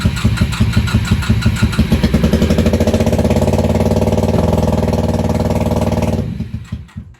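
A Honda Magna 750 (VF750C) motorcycle engine running on choke, loud and close, with a rough pulsing idle that steadies and then cuts out near the end, leaving a brief fading tail.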